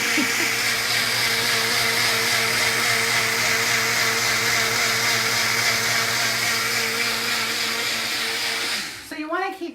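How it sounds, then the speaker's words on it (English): A Tri-Best blender whirs steadily at high speed, blending a lemon sesame dressing, loud and continuous before cutting off near the end, where a voice briefly speaks. "So you want to keep blending this until this gets really smooth."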